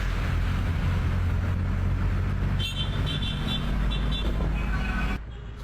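A tricycle drives along a street with a steady, loud motor drone, with a high horn-like toot briefly over it before the engine sound drops off near the end.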